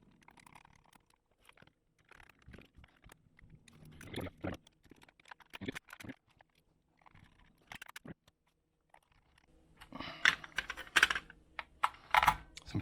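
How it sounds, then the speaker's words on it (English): Small screws go back into a Game Boy during repair, with quiet scattered clicks and taps of a screwdriver and plastic handling, growing busier and louder toward the end. "Let's put the rest of these screws in."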